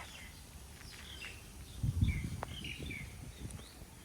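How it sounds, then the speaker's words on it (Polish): Small birds chirp and tweet in scattered short calls at a moderate distance in Thailand, with a soft rustle and low background murmur underneath. "Słyszycie te ptaszki?"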